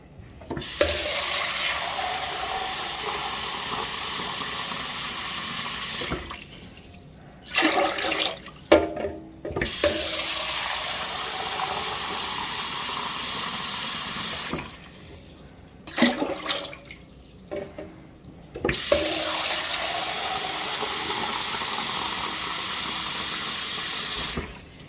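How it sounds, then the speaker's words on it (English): Tap water pours steadily into a metal container being filled to the brim for one gallon, a loud, close, rushing stream that stops briefly twice and then starts running again. "So by filling this container, this metal container, up to the very top, I am getting 1 gallon of water."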